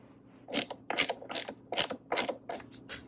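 Screws are tightened by hand while a stand is mounted on a TCL Roku 43-inch 4K TV, giving about seven crisp ratcheting clicks in a quick, fairly even series, close and distinct, with no talking.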